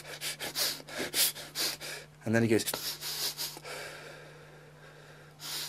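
Heavy breathing through the nose comes as a run of rhythmic sniffs and snorts, close and loud, seemingly imitated by a voice with speech around it.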